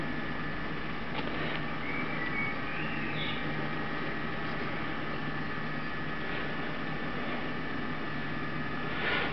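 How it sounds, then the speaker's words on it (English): A small cooling fan runs inside an LED laminar water jet housing with LEDs on heat sinks, giving a steady, faint whirring hum with a soft broadband hiss throughout and no clear changes. "So you can hear the cooling fan in there to keep that lot cool."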